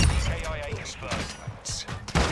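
Gunfire in the Call of Duty video game, rapid bursts of automatic weapon shots mixed with game radio voice lines, loud and close, with sharp cracks spread across the clip.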